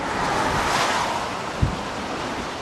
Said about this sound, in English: Up to 80-mile-an-hour winds and huge waves lashed the port of Dover